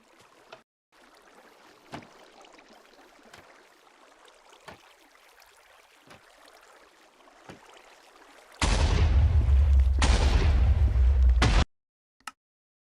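An explosion in the video game Minecraft bursts out as a loud, sustained roaring blast lasting about three seconds, with a brief break near the middle, then a faint pop, after quiet background clicks and low game ambience.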